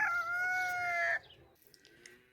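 A single rooster crows loudly nearby, one long drawn-out call that cuts off and leaves quiet room noise with faint clicks.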